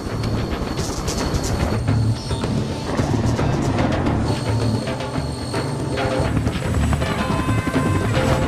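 A military helicopter roars loudly and steadily in Afghanistan's Bardam province, its rotor thumping alongside a turbine whine with no break, heard up close in a scene from the 2011 action film Fuerzas Especiales.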